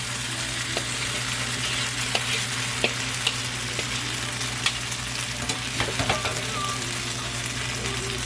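Rice noodles hiss and sizzle in a hot pan with browned garlic, with a steady frying crackle and scattered spatula clicks as they are stirred, alongside a low constant hum.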